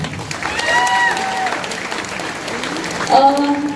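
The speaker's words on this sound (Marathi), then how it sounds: "स्वतःसाठी टाळ्या वाजवा पहिल्यांदा" An audience claps together at a Marathi stage event honouring an actress, the applause broad and steady, with melodic tones and a voice rising over it near the end.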